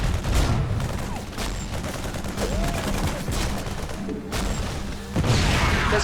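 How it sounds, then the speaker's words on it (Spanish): StarCraft 2 Heart of the Swarm game audio of a kinetic explosion and gunfire, with loud rapid fusillade bursts and crashing impacts repeating in dense waves across the whole stretch. "Veamos cómo reacciona ante una explosión cinética."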